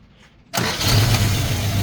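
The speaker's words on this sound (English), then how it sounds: "the car will start" A 1986 Subaru Brat engine cranks and catches after half a second of near silence, jumping abruptly into a loud, rough idle with a strong low rumble.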